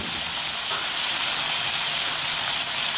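Loud, continuous sizzling hiss of tomato puree hitting a hot pan while cooking chicken karahi, steady and close throughout with no voices.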